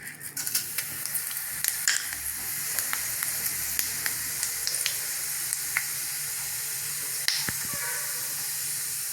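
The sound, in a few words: tempering fennel seeds and onion in hot oil for kuzhambu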